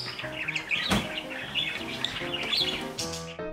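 Pet budgies chirp and tweet continuously in a busy chorus, with bright overlapping calls, a louder squawk near the start and some wing flapping, close by and steady throughout.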